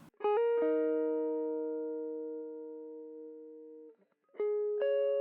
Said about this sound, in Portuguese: é uma guitarra bem crua, som de linha mesmo